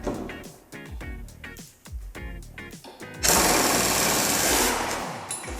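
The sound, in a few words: impact wrench loosening John Deere riding mower blade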